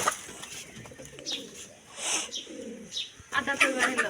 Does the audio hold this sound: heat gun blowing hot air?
no